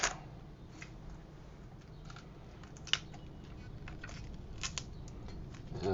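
Thin plastic protective film being peeled off a Microsoft Ergonomic Desktop numeric keypad, producing scattered crinkly ticks and crackles with one sharper snap midway, close and quiet over a low room hum.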